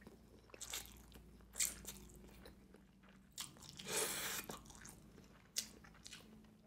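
Close, wet chewing on a mouthful of Indomie Goreng fried noodles, with soft squishy mastication broken by a few crisp bites and smacks, quiet and intimate, with no speech.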